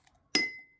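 A metal spoon strikes a drinking glass once, giving a single bright clink with a short ringing tail in an otherwise quiet kitchen.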